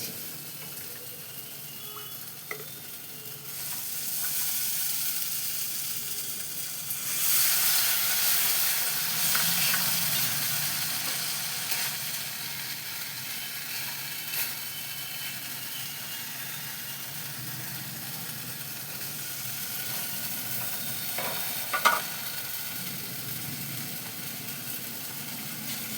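Ground Gobindobhog rice paste sizzles in oil in a pan for a boal fish curry, a soft continuous hiss that swells after a few seconds, with occasional faint clicks and one sharp knock near the end.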